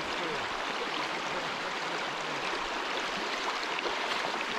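River water rushing around the legs of someone wading a fast, rough stretch of a wild Scottish river, a dense, loud, continuous roar and splash close to the microphone.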